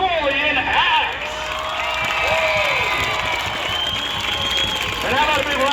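Big arena crowd at a monster truck show cheering and applauding loudly and continuously, dense clapping under rising whoops, with an announcer's amplified voice cutting in over the roar.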